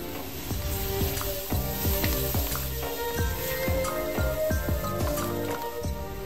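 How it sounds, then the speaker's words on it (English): Spice powders sautéing with tomatoes in a pan for squid biryani: steady close sizzling with repeated scraping and stirring strokes of a utensil, and small wet squishes throughout. "Mix well and saute the spice powders for a minute"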